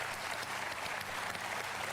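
A studio audience at a television quiz show applauds the orchestra musicians, a brief burst of dense clapping at moderate volume.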